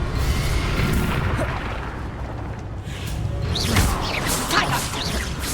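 A Confringo fire spell blasting in the Hogwarts Legacy video game, with booming, crashing impacts and whooshes through the middle and end, over a constant rumbling backdrop.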